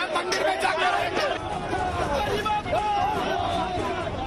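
A dense crowd of BJP party workers mills and shouts at the Siddhivinayak temple, overlapping voices forming a loud, continuous babble with scattered calls rising above it.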